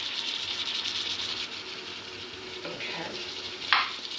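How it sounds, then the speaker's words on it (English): Food sizzles steadily in a hot pan while frying, a bright crackling hiss, with a louder spatter burst near the end. "You can hear that sizzling there."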